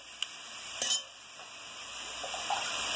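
Beef tips browning in a pot: a soft, steady sizzle runs throughout, broken by a couple of clanks and a brief scrape of a utensil near the start, with no voices.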